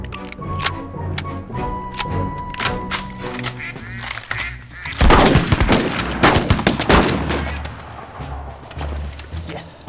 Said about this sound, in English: Are you shooting blanks, Gordo?